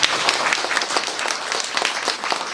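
Audience applause at a stand-up comedy show fills the room with a dense, steady wash of clapping throughout, fairly loud and continuous with no speech over it.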